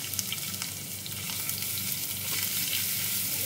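Garlic sizzles and fries in hot oil in a pan as vegetables are about to be sautéed for pasta, a steady close crackle with small pops throughout.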